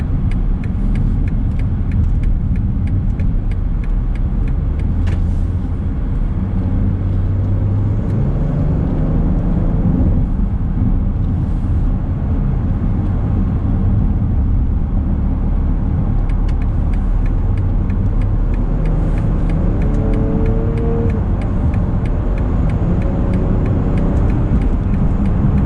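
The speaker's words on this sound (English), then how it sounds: "See what kind of acceleration it's got getting on the on-ramp" BMW X5 SUV accelerating up a highway on-ramp, a steady loud engine and road rumble with rising tonal whine over continuous tire noise, no talk.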